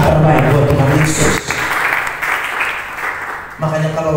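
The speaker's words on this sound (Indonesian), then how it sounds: "Beri tepuk tangan terbaik buat Tuhan Yesus." A church congregation breaks into a short burst of applause, with someone speaking just before and after it.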